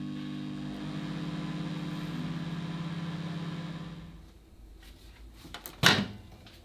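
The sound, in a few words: microwave oven heating pumpkin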